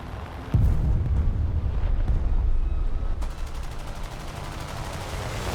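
An AMX-10M tank in War Thunder fires its cannon with one sharp, loud boom, followed by heavy rumbling and a second thud a few seconds later, set against constant battlefield noise.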